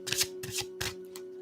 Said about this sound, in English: So I'm just going to shuffle the cards, set that intention for you